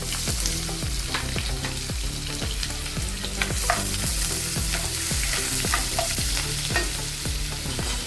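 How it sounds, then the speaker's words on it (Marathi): One large onion fries in a heated pan of hot oil with cumin and mustard seeds: a steady, loud sizzle under a regular series of spatula scrapes as it is stirred, with no voices. "पॅन तापलेलं आहे, तेल पण तापलेलं आहे। जिरं, मोहरी घालून कांदा घालून, एक मोठा कांदा घेतलेला आहे।"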